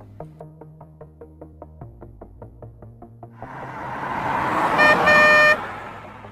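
In a Dhaka traffic jam, a steady run of rhythmic ticks gives way to swelling road noise, then one car horn blares for under a second before cutting off.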